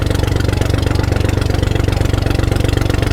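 A boat motor drones on the Krishna River near a dam, a loud, steady, rhythmic mid-pitched engine throb with a regular pulsing beat, close by and continuous, with no voices.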